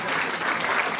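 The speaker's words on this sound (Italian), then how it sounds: "Se vi è piaciuta, applaudite noi" An audience claps steadily in dense, even applause at the end of an Italian play, with no voices standing out.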